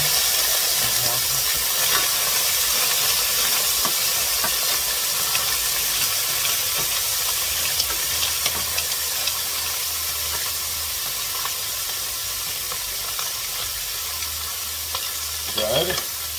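Clams and mussels sizzle and fry steadily in a hot pan for linguine, a continuous close hiss with occasional stirring and steam, no talking.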